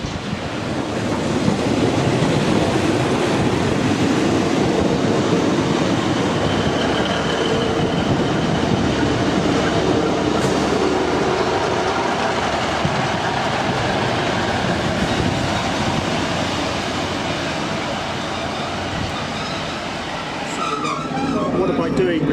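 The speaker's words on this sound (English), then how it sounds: "So this is my train going to Manchester Piccadilly." Interior of a train bound for Manchester Piccadilly on a South Pennines rail route, with a steady, loud rumble and rolling noise lasting throughout and faint clattering near the end.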